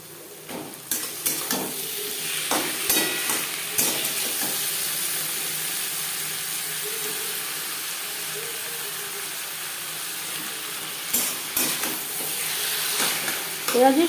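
Marinated chicken fries with onions and chilli in a pan for chicken bhuna, a steady hissing sizzle with clustered scraping stir strokes near the start and end, close and fairly loud.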